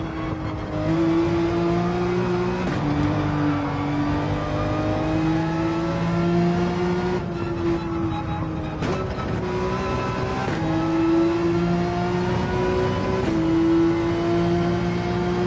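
A mid-engine car in Gran Turismo 7 revs hard and loud, with its engine note repeatedly climbing as it powers out of turns, broken by quick gear shifts over a steady roar; no talking.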